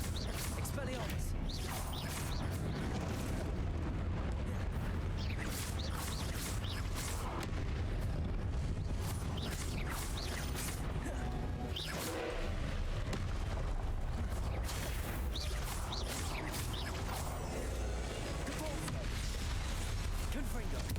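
Repeated booming spell blasts from the Confringo curse in Hogwarts Legacy, a dense, loud run of explosions and crashes lasting the whole stretch, with a voice talking over the action.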